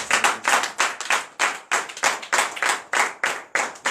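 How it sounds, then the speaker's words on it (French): Church congregation clapping in acclamation at a deliverance prayer night in Benin, loud rhythmic claps in regular bursts that repeat steadily throughout and sound close. "Donnez l'acclamation à Jésus"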